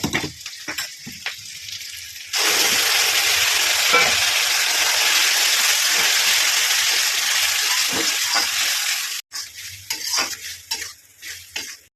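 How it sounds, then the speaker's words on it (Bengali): Loud, steady sizzling bursts out as lentils hit a hot pan, hissing continuously for several seconds, with utensil clinks and stirring before and after. "এবার আমি ডালটা ঢেলে দেবো"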